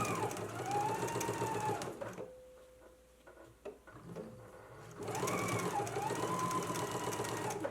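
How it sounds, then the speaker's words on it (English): A sewing machine stitches in the ditch along a jacket seam, running in a steady loud whir, pausing for about three seconds with faint clicks and handling, then starting up again. "So once you have it all pinned, now let's go to the sewing machine."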